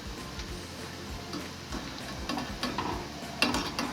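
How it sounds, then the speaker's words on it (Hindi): Chicken kofta balls shallow-frying in oil, a quiet, steady bubbling sizzle with occasional light ticks and a soft utensil knock near the end, heard close and without talk. "ये फ्राई हो रहे हैं।"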